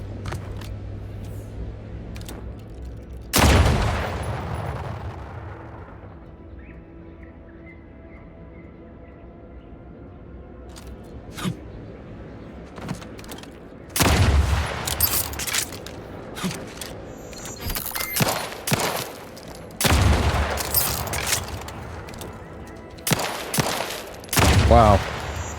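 Guns fire in the video game Outer Worlds 2 in sharp, loud bursts of several shots each, separated by quieter stretches of soft mechanical game sounds.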